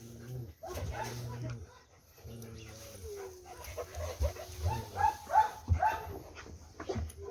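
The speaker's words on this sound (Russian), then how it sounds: "контактная, семейная собака" A calm, affectionate family dog, a rescue female, whimpers and pants softly up close in bursts, with a person talking intermittently over it.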